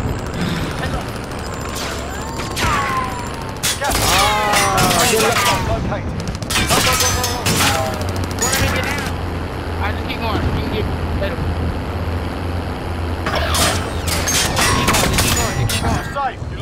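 Rapid sustained gunfire rattles through a Call of Duty Warzone match, with bursts of shots and explosions under loud excited player chatter throughout.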